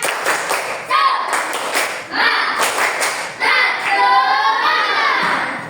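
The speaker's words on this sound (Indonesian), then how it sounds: "Karena kita tepuk semangat dulu ya. Tepuk semangat." A classroom of children does rhythmic chant-and-clap "tepuk semangat" cheer clapping, bursts of hand claps in a patterned beat with children's voices shouting along, loud and close.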